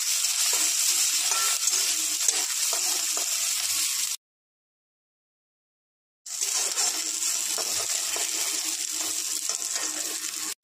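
Peanuts, green chilli and chopped garlic fry and sizzle in a pan for jute-leaf (paat shak) bhaja while being stirred, a steady close hiss that cuts out for about two seconds midway and then resumes.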